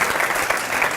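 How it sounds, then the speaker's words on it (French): Audience applause fills a lecture hall after a talk on flipped-classroom teaching, a steady dense wash of clapping from start to finish with no pauses. "C'est les étudiants que vous applaudissez"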